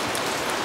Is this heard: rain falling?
yes